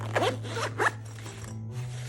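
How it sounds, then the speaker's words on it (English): A zipper closes a travel notebook case: two quick, rasping zip strokes up close, followed by quieter handling and rustling of the case. "you can zip and close it up"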